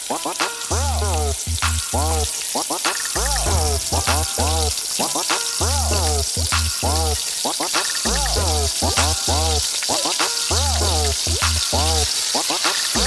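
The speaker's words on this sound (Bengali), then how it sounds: "পেঁয়াজগুলোকে ব্রাউন কালার করে ভেজে নিব।" Half a cup of chopped onion frying in oil until browned, a constant close sizzle with repeated high chirping tones cutting through over it.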